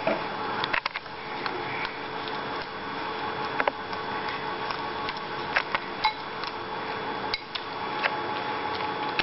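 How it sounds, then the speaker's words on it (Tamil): Sugar being stirred into a mashed avocado (butter fruit) salad in a bowl, with a steady run of faint clinks and scrapes of a spoon against the dish, close by and fairly quiet, with no talking. "போட்டோடனே நல்லா கலக்கிக்கணும்"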